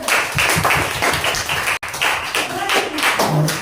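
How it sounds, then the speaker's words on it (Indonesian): Schoolchildren in a classroom clapping their hands together, a lively uneven burst of many small hands close by, with a voice or two mixed in. "tepuk tangan dulu"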